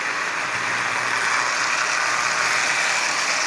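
The single reduction motor of a Marx 400 toy train locomotive with 999 push rods whirs steadily and close by as it pulls a string of about eighteen tin litho cars, a continuous mechanical hum with no talking.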